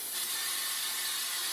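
A short, soft hiss of super glue accelerator sprayed onto a guitar rosette being glued in place, one brief continuous spritz heard close up.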